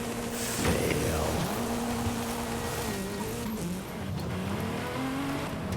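A Ferrari races a Focus in a driving game, its engine droning steadily with pitch rising and falling through shifts, loud and continuous with faint tire noise.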